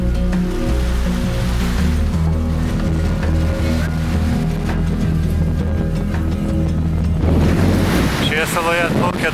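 Waves roll in on a wild island beach in Venezuela, a steady loud wash of surf mixed with strong wind buffeting the microphone throughout.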